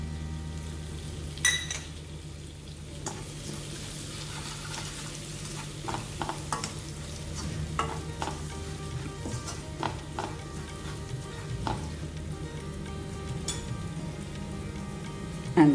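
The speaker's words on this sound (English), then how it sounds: "All the chilies are done, and the ginger and garlic is also almost sauteed" Chilies, ginger and garlic sautéing in a pan for a tangy chili curry, a steady close crackling sizzle broken by repeated scraping stirs and clinks of a spoon, with no talking.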